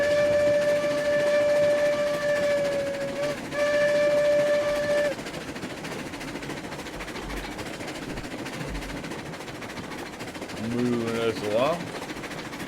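Steam train in the video game RailRoads Online sounds a long two-part steam whistle, then chuffs along with rail noise and a brief rising whistle near the end, while someone talks over it.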